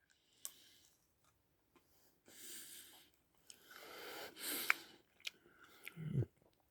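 A hard-shelled, chewy Mentos mint is bitten through and chewed close up, giving a few short, crunchy, moist bursts separated by quiet pauses.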